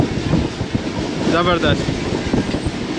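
A Pak Business Express train on the Karachi to Lahore line runs at about 107-108 km/h between Jungshahi and Jhimpir. It makes a steady, loud rolling rumble with a brief squealing whine midway, and a voice speaks a single short word.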